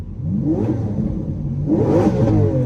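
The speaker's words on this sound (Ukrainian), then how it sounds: "давайте, може, ви впізнаєте по звуку вихлопа" A car exhaust barks through two sharp revs, each rising and falling quickly, loud and close with no talking.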